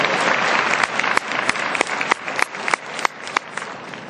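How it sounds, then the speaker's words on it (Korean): An audience at a business presentation claps steadily for several seconds, a moderate, fairly close patter of hands with a few sharper individual claps standing out, fading slightly as it continues. "박수 한번 쳐주세요."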